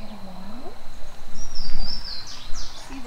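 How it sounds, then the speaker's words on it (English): Birds chirp and sing in short bright calls beside water, close and clear over a soft background of trickling flow and faint rustling. "Hear the bird?"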